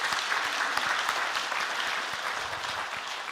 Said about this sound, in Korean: 우리 영광의 박수를 한번 드리도록 하겠습니다